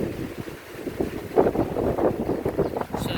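Gusty outdoor wind buffets the microphone in a steady rumbling roar, swelling and easing over a few seconds with no voices.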